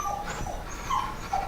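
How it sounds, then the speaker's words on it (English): A puppy whines softly in the background of a hobby workroom while dungeon terrain is being cut, a few short high-pitched whimpers spaced apart over a low room hum. "You might hear whining in the background there."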